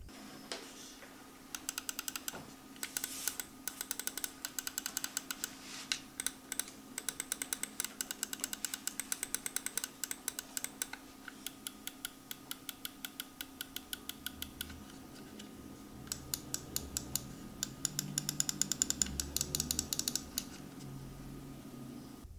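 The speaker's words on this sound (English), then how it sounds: "The clicks sound different from the Atlantis, less sharp and a bit more toned down." Rapid bursts of crisp, close button clicks from a Lamzu Maya gaming mouse, repeated in quick runs with short pauses over a faint background hum and no talk.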